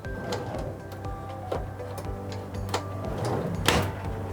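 Inside a Bailey caravan, a push-button locking drawer slides shut with a string of light clicks and knocks, ending in a firmer clunk as it seats home, near and fairly loud.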